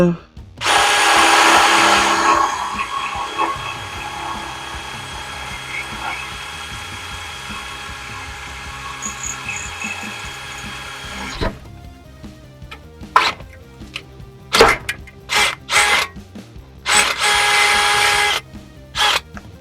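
A power drill bores through a metal steering gear box skid plate on a Jeep TJ. It runs as one long loud whining stretch, then comes in several short bursts that start and stop in close succession.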